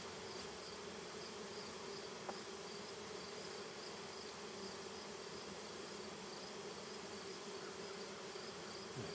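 Honey bees swarm around an open hive during a honey harvest, producing a faint, continuous buzzing drone with no talking.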